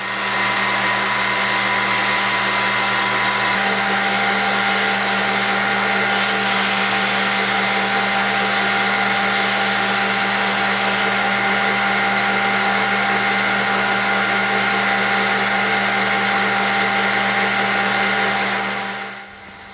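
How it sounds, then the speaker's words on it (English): A belt grinder runs continuously, shaping a carbon steel paring knife blank, with a steady whine and hum that holds at constant loudness for nearly twenty seconds before cutting off at the end. "grind it to shape on my belt grinder"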